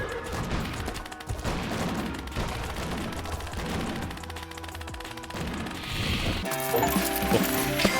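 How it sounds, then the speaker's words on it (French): Rapid gunfire in the Western action game Bounty of One: a continuous fast stream of crackling shots and clattery mechanical effects over game music, steady and dense throughout, with no talk. "je tire à la vitesse de la lumière"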